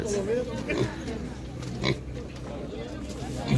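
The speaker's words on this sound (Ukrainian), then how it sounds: "Зарилася така смішна" Soft pig grunts and snuffling close by at an animal market, mixed with a person talking and laughing over them.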